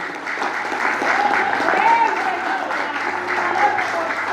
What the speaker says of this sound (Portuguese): Vamos aplaudir nosso Deus em nome de Jesus.